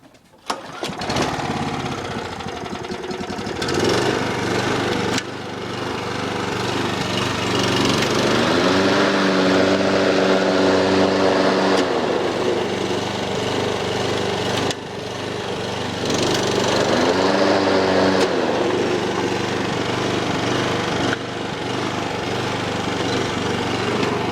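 A petrol walk-behind lawn mower with a blade brake runs loudly and close, its engine note droning steadily and dipping twice as the blade brake is engaged, then rising again.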